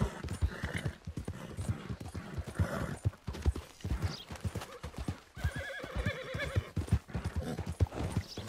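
Horse hooves clip-clop in a quick, steady rhythm in Red Dead Redemption 2, close and clear, with a horse's whinny breaking in partway through and no voices.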